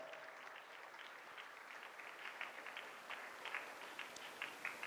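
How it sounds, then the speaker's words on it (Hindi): Scattered applause from a local audience at a school student awards event, many hands clapping at a modest distance, fairly faint but steady with a few louder claps near the end. "इस मोहल्ले के लोग जरा सा तालियां बजाकर"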